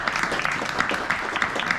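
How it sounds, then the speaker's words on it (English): An audience at a comedy show breaks into brief, dense applause, a steady wash of many hands clapping close together without pause. "that may be the only applause I get tonight"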